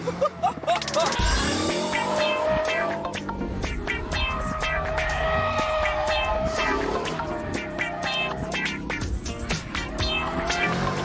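A TVR Sagaris V8 sports car's engine revs and roars loudly while being driven hard through corners, with rising and falling gear pulls and a voice over the engine.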